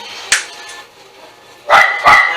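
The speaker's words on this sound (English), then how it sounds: "I apologize for the dogs." Dogs in a home kitchen let out a single sharp bark, then after a pause two loud close barks in quick succession.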